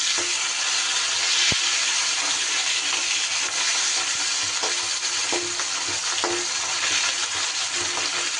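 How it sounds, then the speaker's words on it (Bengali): A hilsa fish head fries in a pan of oil with steady, loud sizzling and crackling throughout, with occasional sharper pops and spatters and no talking. "আর একটু ভাজ ভেজে নেব মাছের মাথা কিন্তু আমার সুন্দর করে ভাজা হয়ে গেছে"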